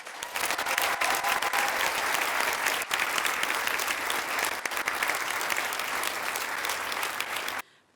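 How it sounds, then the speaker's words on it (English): Loud, dense applause from a large audience at a senior school closing ceremony, honoring student leaders, sustained steadily for several seconds before stopping abruptly. "Please join me in one final round of applause for our student leaders."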